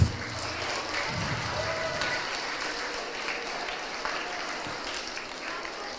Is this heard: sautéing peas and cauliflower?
no